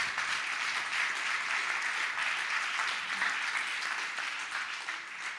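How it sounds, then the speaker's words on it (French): A church congregation applauds, steady, even clapping from a crowd that holds at a moderate level and tapers slightly toward the end. "Je pense qu'on peut vraiment applaudir"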